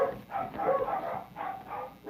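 A dog barks three times in an even rhythm, each bark a short, moderately loud burst heard alone at medium distance.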